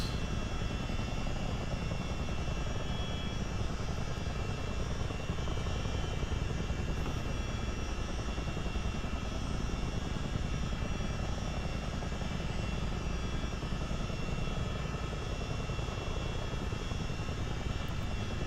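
A CH-47D Chinook tandem-rotor helicopter in a flight simulator drones with a continuous, even engine and rotor roar that stays steady and unbroken throughout.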